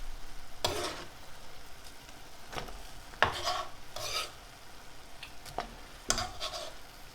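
Tomatoes go into a pan of mussels cooking in butter, giving a continuous low sizzle broken by several sharp scraping stirs at irregular intervals.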